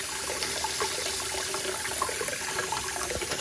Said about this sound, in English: And now I'll carefully just rinse them off a little.